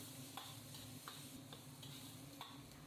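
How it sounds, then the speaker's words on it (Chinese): Scallion and ginger stir-fried with diced pork over medium heat, a faint, even sizzle under regular spatula scrapes against the wok every half second or so, with a low hum behind. "中火炒出葱姜的香味"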